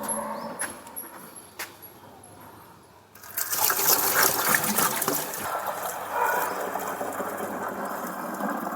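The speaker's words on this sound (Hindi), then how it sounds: "और भाई अब ट्रैक्टर के रेडिएटर में पानी भी डाल देते हैं।" Water poured into the radiator of a tractor that has stood unused for a long time. After a few faint clicks, a steady close splashing pour starts partway through and runs continuously to the end.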